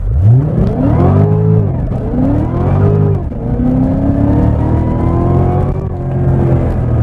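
A 2019 Cadillac CTS-V launching hard from a standstill, its engine roaring loud and close through rising revs with distinct gear changes, each shift dropping the pitch before it climbs again.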